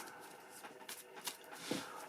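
A soft riffle and a few light flicks as playing cards are shuffled, close and quiet against faint background hiss.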